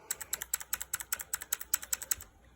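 A quick run of Cherry MX Blue mechanical keyboard keystrokes with PBT keycaps, bright, clicky taps in a fairly even rhythm, close and clear with no talking.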